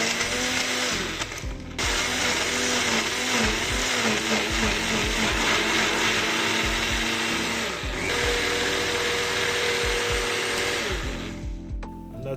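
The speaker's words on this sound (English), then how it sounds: "I'm just going to puree this." A blender purees Jamaican green seasoning with a loud, steady motor whine close by, interrupted by two brief stops before running on and cutting off near the end.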